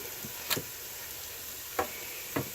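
Spaghetti is stirred in a pan in three brief, quiet scraping strokes against a soft background sizzle, with pauses between them.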